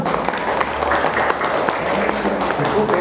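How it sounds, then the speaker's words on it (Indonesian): Applause for the speaker at a parenting seminar at Kober Al-Wasiah: an audience claps in a continuous, moderately loud patter, with faint voices underneath. "Tepuk tangan buat Ibu."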